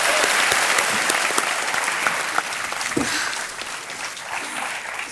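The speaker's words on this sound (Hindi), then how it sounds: "तालियां बजती रहे इनके लिए।" Studio audience applause at a Hindi TV quiz show, a dense wash of clapping that starts loud and gradually fades, with a faint shout or two and no clear talk.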